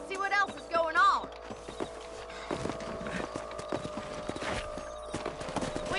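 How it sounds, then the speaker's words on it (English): Horse hooves clip-clop at a steady walking rhythm in the Western video game Red Dead Redemption. The hoofbeats are moderately close and repeat evenly under occasional talk. "Let's get back on the horses and see what else is going on."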